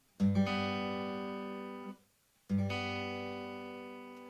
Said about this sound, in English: we play an open chord arpeggio